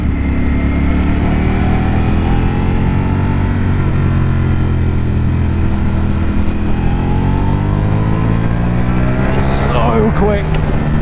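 A Ducati Panigale V4 motorcycle rides through tight twisty roads. Its engine note rises and falls steadily and loudly throughout, with a sharper burst of revving near the end.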